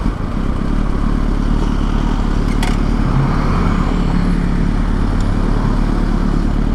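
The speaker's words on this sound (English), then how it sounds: "My bike's loud." A loud motorcycle engine drones steadily while the bike is ridden, filled with heavy low rumble and road and wind noise throughout, with a couple of brief clatters along the way and no talk.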